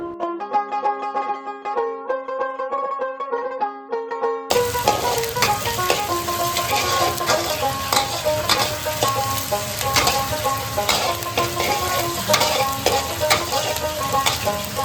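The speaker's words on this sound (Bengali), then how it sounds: "তেলটা গরম হলে তেলের মধ্যে দিয়ে দেব পেঁয়াজ কুচি।" Chopped onions frying in hot mustard oil in a wok give a steady, dense sizzle that starts partway through, laid under continuous background music that plays alone at first.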